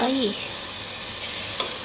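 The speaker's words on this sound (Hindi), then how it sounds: "ये अभी फ्राई हो रहा है" Chicken frying in a large cooking pot gives a steady, close sizzle and hiss throughout, with a brief voice-like sound at the very start.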